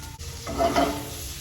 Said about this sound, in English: So now into this, we can go ahead and drop our lemon segments.